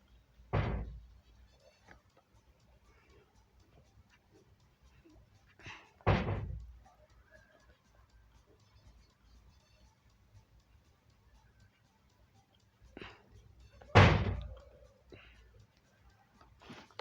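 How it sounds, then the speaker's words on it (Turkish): A door bangs shut on its own again and again, three loud thuds spaced several seconds apart in an otherwise quiet room. "Kapı kendi kendine vurup duruyor."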